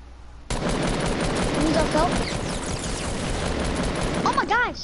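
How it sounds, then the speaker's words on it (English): Sustained rapid gunfire in the video game Fortnite rattles loudly for several seconds, a dense fusillade that begins abruptly and runs continuously, with brief whooshing effects near the end. "Oh my gosh, I'm getting sniped."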